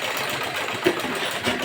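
A sewing machine stitches the seams of a pair of large pants, a continuous fast mechanical whir with a rapid needle rhythm that runs steadily throughout, no voices.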